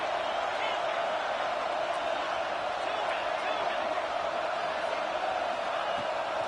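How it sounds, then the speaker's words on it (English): A large football stadium crowd roars in a constant, dense wash of noise that never lets up, loud and enveloping throughout. "These fans are going absolutely nuts."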